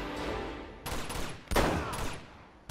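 Desert Eagle pistol fired in Uncharted 2: three sharp, loud shots at uneven intervals, each cracking out over a steady background din.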